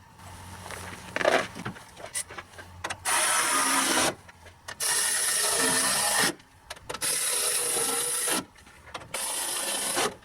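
Bursts of a power driver running screws into a Dodge Ram front grille, four steady whirring runs of about one to two seconds separated by pauses, preceded by softer handling and scraping noises, close and with no talk.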